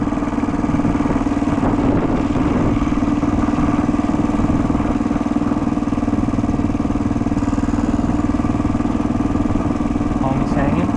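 A 1979 Honda XR500 motorcycle engine runs steadily through a ride, a continuous mid-pitched drone that stays loud and unbroken throughout, with someone talking over it.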